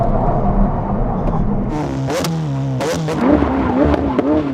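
A McLaren 750S supercar roars hard during a brake test run, its engine tone rising and falling through quick shifts, loud and close, with a voice briefly heard over it.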